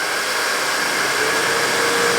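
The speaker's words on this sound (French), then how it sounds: "Il consomme 1900 watts le sèche-cheveux." A 1900-watt hair dryer blows steadily and loudly at close range, an unbroken airy rush with no pauses or voices.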